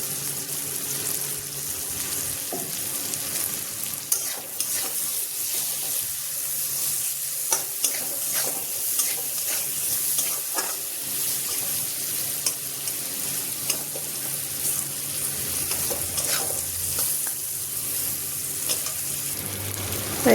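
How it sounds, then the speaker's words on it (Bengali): Chopped vegetables with tomato and turmeric sizzle steadily in a pan for oats khichdi, while a spoon stirs and scrapes through them at intervals, with a faint trickle of water in the background and no talking. "এখানে সবজিগুলো সব ভাজা হয়েই গেছে"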